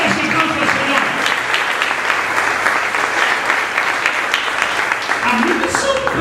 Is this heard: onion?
no